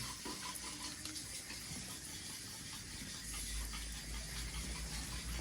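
Water runs from a household tap in a steady, faint hiss and gurgle, continuous throughout with no voices, growing slightly fuller toward the end.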